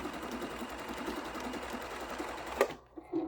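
A sewing machine stitches a quilt-as-you-go table runner at a longer stitch length, giving a continuous close mechanical hum that stops near the end, followed by a couple of small clicks.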